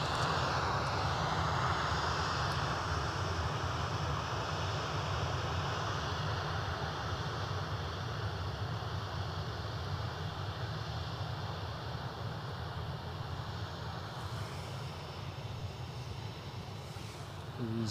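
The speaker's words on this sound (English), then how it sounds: "EasyJet. Inbound from Belfast." An EasyJet airliner inbound from Belfast on approach to Edinburgh Airport, a continuous broad engine roar heard from a distance, steady and even throughout with a faint high whine on top.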